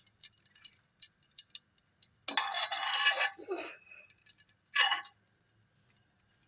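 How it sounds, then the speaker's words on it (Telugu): Onions dropped into hot peanut oil in a pan, cooking for a Sunday paya sherwa: a sudden burst of close, loud hissing sizzle that settles, then flares again briefly as the pieces are stirred. "ఆనియన్స్ వేస్తున్నానండి."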